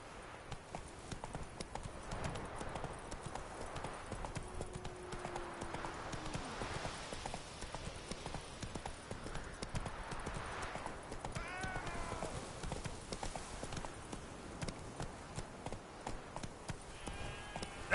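Roach the horse gallops in The Witcher 3, hooves clip-clopping in a steady rapid rhythm that runs throughout, close and fairly loud over an ambient game backdrop, with a brief whinny partway through.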